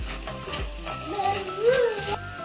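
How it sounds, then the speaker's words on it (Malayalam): Fried leftover idli pieces, made into chilli idli, sizzle in a pan while being stirred and tossed, giving a close, steady crackle with scraping strokes throughout. "ഇതിലേക്ക് നമ്മൾ ഫ്രൈ ചെയ്ത് വെച്ച ഇഡ്ഡലി ഇട്ട് കൊടുക്കാം. ഇനി ഇത് നമുക്ക് ഒന്ന് മിക്സ് ചെയ്തെടുക്കാം."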